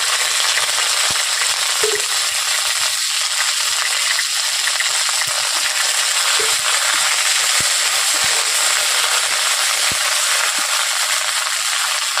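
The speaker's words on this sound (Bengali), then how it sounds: "তেল গরম হয়েছে, ওর মধ্যে দিয়েছি 5 ফোড়ন, দিয়ে দিচ্ছি আদা" Five-spice seeds and ginger hit hot oil in a pan, giving a steady, bright sizzle throughout, with occasional small pops and ticks.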